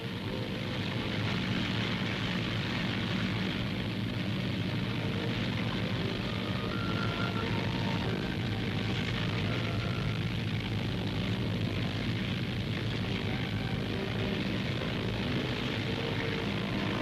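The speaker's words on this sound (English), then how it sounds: "Brabazon moves forward under her own engines" Propeller engines of the Bristol Brabazon airliner drone steadily during a run along the runway, a loud, continuous mechanical roar that holds unchanged for the whole stretch.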